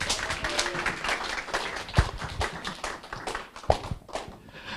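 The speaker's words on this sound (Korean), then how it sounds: "장영칠 크라운 사장님을 큰 박수로 모시겠습니다" Audience applause at a Korean business conference as a company president is welcomed on stage, with scattered claps, a few louder taps and thumps close by, moderate and steady.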